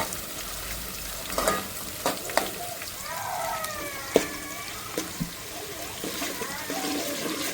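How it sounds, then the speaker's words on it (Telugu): Onions fry in a pan with a soft, steady sizzle, broken by scattered clicks and scrapes of stirring, while a person talks quietly over the cooking. "బాగా ఫ్రై చేసుకోవాలండి"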